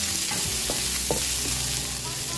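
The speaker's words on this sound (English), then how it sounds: "Stir fry muna natin yung ating veggies." Vegetables stir-fried in hot oil give a loud, continuous sizzle throughout, with a few scraping stirs of the utensil through the pan.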